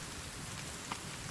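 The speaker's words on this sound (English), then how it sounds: "as soon as I got here, it started raining." Rain in the video game The Forest falls as a faint, even patter and hiss, with a single slightly louder drop standing out briefly.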